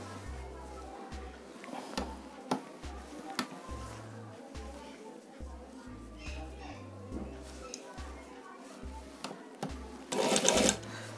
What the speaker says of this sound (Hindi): इस तरह से हम सिलाई कर लेंगे।